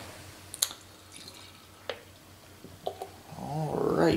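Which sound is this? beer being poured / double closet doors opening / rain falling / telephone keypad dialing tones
beer being poured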